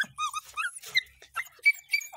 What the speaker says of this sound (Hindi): ये एक है छोटा पिस्ती कुत्ता